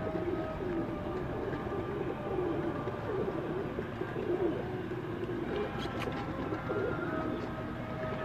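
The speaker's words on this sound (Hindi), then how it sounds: "ये कौन से कबूतर हैं?" Pigeons in a rooftop loft coo softly and repeatedly over a low, steady background hum, with a few faint clicks near the end and no talking.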